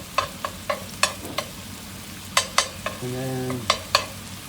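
Bouillon paste sizzles in a roux while a utensil knocks and scrapes the pan in sharp, regular taps, with a steady frying hiss underneath and a brief spoken phrase.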